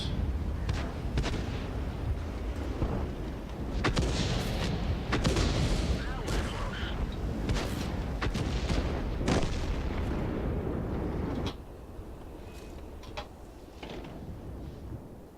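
Tank cannon fire in the World of Tanks video game: repeated heavy booming shots and impacts at irregular intervals over rumbling engine and battle noise, with a player talking now and then.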